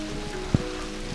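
Steady, moderate rain falls on a small farm garden in Central Europe after a thunderstorm faded, a continuous patter with one brief louder drop or knock, and no voices.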